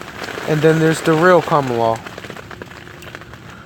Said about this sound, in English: Sorry about the rain. That's what the noise is in the background.